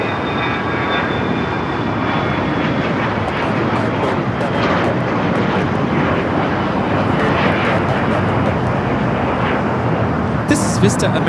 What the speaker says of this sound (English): Delta America 547 taking off to Cabo on the Challenger 300.